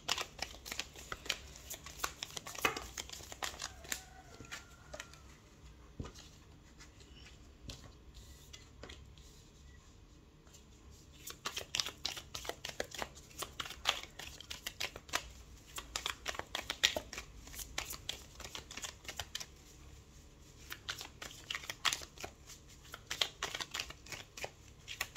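Tarot cards are shuffled and drawn close up: soft, quiet riffles and papery flicks come in uneven bursts, with short pauses and light handling sounds in between.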